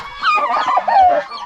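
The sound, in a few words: turkeys calling on a farm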